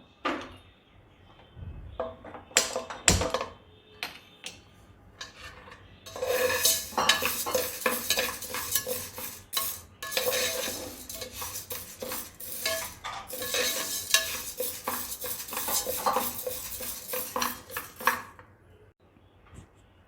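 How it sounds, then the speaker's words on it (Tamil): Fenugreek and urad dal dry roasting in a pan, with a spoon scraping and stirring in irregular bursts and clinks of metal against the pan, close and clear with no talking. "நம்ம இப்போ லைட்டாக இதை ட்ரை ரோஸ்ட் பண்ணிக்கலாம்."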